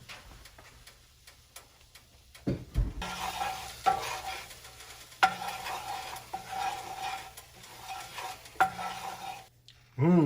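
A flour-and-fat roux for country fried steak gravy cooks in a pan with a soft steady sizzle, while a utensil scrapes and taps against the pan at irregular intervals.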